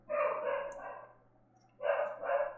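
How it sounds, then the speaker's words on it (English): A dog barks in two short bursts of rough, mid-pitched barks separated by a brief pause, fairly faint and at a distance, over a low steady hum, with no speech. "Dog is barking."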